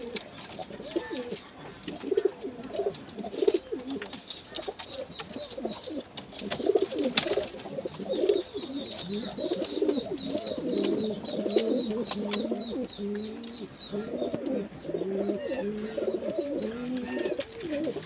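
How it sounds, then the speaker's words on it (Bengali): Many large Kaldom pigeons coo continuously in a loft, overlapping low rounded calls filling the enclosed space, with occasional wing flutters and faint chirps. "কালদম পায়রা সত্যি দেখলে আশা মিটে যাবে।"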